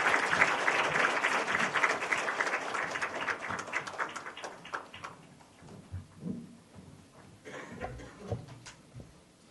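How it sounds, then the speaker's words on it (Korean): Applause from a congregation at an evangelism conference, loud dense clapping at first that thins into scattered claps and fades into a quiet, sparse room. "모실 때 큰 박수 부탁드립니다"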